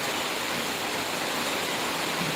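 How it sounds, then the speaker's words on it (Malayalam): Steady rain hisses evenly and fairly softly, a continuous wash of sound with no voices. "മഴയാണ്"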